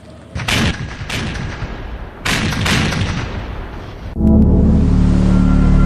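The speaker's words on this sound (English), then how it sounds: "will be more accurate than any artillery gun ever" Heavy artillery gun fire in a military setting: several loud booming blasts with broad rumbling tails, spaced about two seconds apart, then a sustained low roaring rumble at the end.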